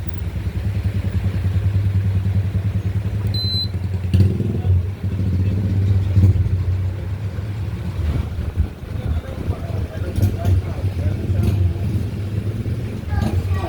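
A Kolin inverter split-type air conditioner's fan motor runs after an E5 error repair, giving a steady low hum with a faint whooshing airflow while people talk nearby.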